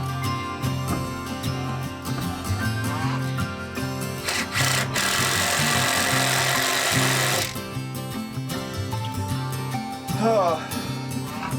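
Power tool driving screws into wood on a farm build, a steady buzzing whine running nearly continuously with short breaks and a louder burst midway, under music-like tonal background and faint talk.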